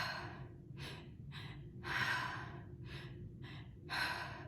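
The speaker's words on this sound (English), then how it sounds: "you breathe into your belly with your mouth, and then you top it off to your chest, and then you exhale" A person breathes slowly and deliberately, drawing air in through the mouth into belly then chest and releasing it in relaxed sighing exhales; about seven close, airy breath bursts in a steady rhythm with no talking.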